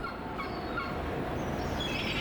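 Large birds call in Istanbul over a constant outdoor background, with gobbling and honking cries rising at intervals, some closer and some farther off.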